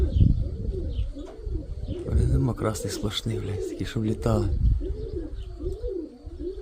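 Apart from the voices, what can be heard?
pigeons flying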